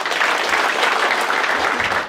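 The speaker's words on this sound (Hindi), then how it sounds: "बाकी मैंने जिन जिन लोगों से क्राउड वर्क में बात करी उन सबके लिए ताली बजा दो एक बार।" Loud sustained applause fills a comedy club, many audience members clapping together in an even, dense wash that tapers slightly at the end.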